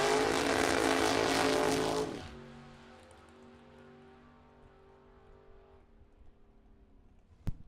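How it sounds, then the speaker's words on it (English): A 1965 Chevy II wagon roars loud and close on a drag strip run, then the engine note fades quickly into the distance, leaving a faint lingering drone and a brief sharp knock near the end. "Here comes Steve Folk, the 65 Chevy 2 wagon from Durand,"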